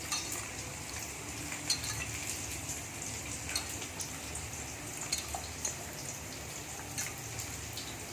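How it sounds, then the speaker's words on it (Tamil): Tamarind pulp being squeezed and dissolved by hand in a bowl of water for bitter gourd puli kulambu, giving soft, continuous wet sloshing and squishing with small drips and clinks, steady and close, with no talking. "இப்போ புளியை நல்லா கரைச்சிக்கலாம்"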